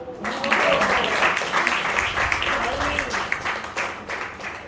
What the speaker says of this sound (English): Can we keep the round of applause?